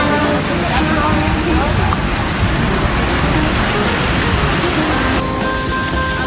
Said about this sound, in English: It's coming, a hurricane.